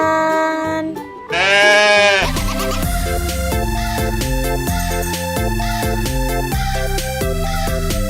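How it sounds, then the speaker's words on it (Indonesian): Sheep bleating, a single loud, wavering bleat at the start of a kids' animal video, set against cheerful background music that carries on throughout. "Ini ada domba."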